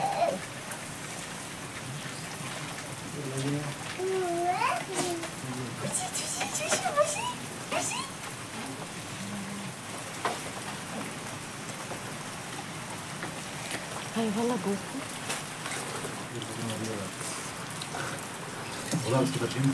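Steady rain falls outdoors during a trip in Kashmir, making a continuous dense patter throughout, with voices heard faintly now and then under it.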